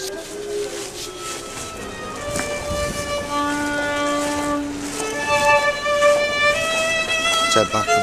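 A train passes with a sustained, siren-like horn tone, steady rumble and metallic rattling, loud and continuous, with some voices in the background.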